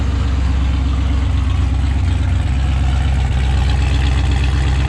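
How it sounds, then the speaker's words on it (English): A 1967 Pontiac GTO convertible's V8 idles steadily at close range, its exhaust giving a deep, even low-end rumble that holds throughout with no talking. "Take you back, let you listen to the exhaust."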